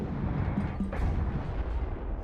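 An artillery strike landing on enemy artillery in the war strategy game WARNO, a short burst of heavy booming impacts with rumbling low thuds and crackle, close and loud throughout.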